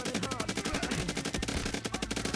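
Rapid automatic gunfire aimed at swarming bugs in the science-fiction series Afterburn, a dense, rhythmic stream of shots that is loud and close throughout, with frantic voices mixed in.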